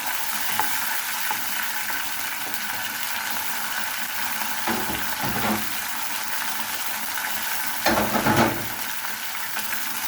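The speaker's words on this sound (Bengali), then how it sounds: "আর একটু আদাটা কষিয়ে নিচ্ছি" Ginger sizzles and fries in a pan for vegetable chira polao, a steady crackling hiss with occasional scraping stirs and louder bursts.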